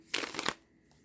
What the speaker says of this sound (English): I'm going to shuffle it one more time since the cards are trying to self-cut